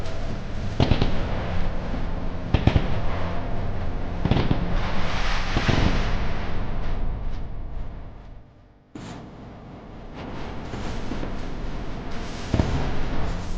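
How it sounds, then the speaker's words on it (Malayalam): Fireworks burst in the sky over the UAE for the national day celebration, with sharp loud bangs repeating every couple of seconds over a continuous crackling roar, then a brief lull before more explosions. "ലോക സംഗീത ചക്രവർത്തിക്ക് ആദരമർപ്പിച്ച് UAEയുടെ ആകാശത്ത് വെടിക്കെട്ടും അരങ്ങേറി."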